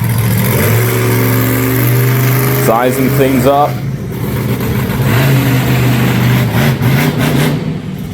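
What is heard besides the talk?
monster truck engine revving before wheelie competition hit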